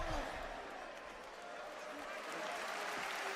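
A wrestling event crowd at Clash in Italy applauds in a dense, sustained wash of clapping and cheering, heard at a distance while voices talk over it.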